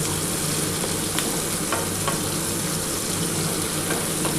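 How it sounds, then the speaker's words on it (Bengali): Paneer pieces for dry chili paneer fry in a pan with a steady, dense sizzle that holds throughout, close and fairly loud, with a few faint clinks of stirring and no voices. "আর বেশি ভাজছি না বন্ধুরা, দেখো মোটামুটি ভাজা কমপ্লিট"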